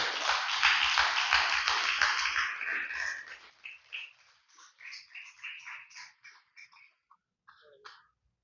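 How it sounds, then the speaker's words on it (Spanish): A church congregation at Iglesia Nuevo Destino applauds loudly as a brother walks up to preach, dense clapping for about three seconds that thins into scattered claps and fades out. "Denle un fuerte aplauso mientras el hermano pasa"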